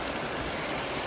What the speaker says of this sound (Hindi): अभी अचानक से यहाँ पे बहुत तेज़ बारिश आ गई है।